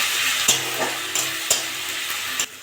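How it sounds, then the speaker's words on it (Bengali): Onion and ginger-garlic paste fry in a pan with a steady hiss, broken by about five sharp scraping stirs of a spoon at irregular intervals. "এটা নেড়ে চেড়ে ভালো করে ভেজে নিয়েছি।"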